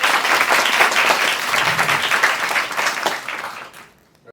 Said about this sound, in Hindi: तो तालियां चाहिए कि नहीं चाहिए?